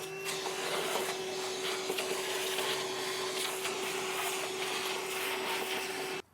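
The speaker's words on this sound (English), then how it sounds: "I'll just vacuum up all the sawdust." A vacuum cleaner sucks up sawdust after RV step hardware is installed on a 2021 Grand Design Reflection, giving a loud, steady, close whine with a constant hum that runs unbroken until it cuts off at the very end.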